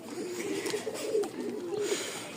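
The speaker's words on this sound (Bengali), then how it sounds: "এখানেই বেশ কিছু কবুতর আছে" Domestic pigeons, including tumblers, coo in a loft, a steady low murmuring coo that continues close by with no talk over it.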